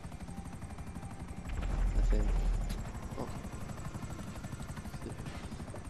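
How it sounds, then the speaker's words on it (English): Helicopter flying in Grand Theft Auto V Online, a rapid continuous rotor chop that swells louder near the middle and then settles, with brief speech over it. "there's another chopper behind it"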